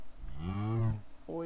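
A cow in the video game Minecraft lets out one long, low, drawn-out moo, clear and close, followed by the start of another.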